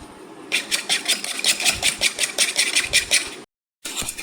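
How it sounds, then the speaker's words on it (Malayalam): An egg and a tablespoon of milk whisked briskly in a bowl make a fast, regular clatter of rapid beats, close and fairly loud, running for about three seconds, pausing briefly, then starting again. "ഒരു മുട്ട എടുത്ത് പാത്രത്തിലേക്ക് പൊട്ടിച്ചിട്ടുണ്ട് ഇതിലേക്ക് ഒരു ടേബിൾ സ്പൂൺ പാലൂടെ ഒഴിച്ചിട്ട് നമുക്കൊന്ന് അടിച്ചെടുക്കാവേ"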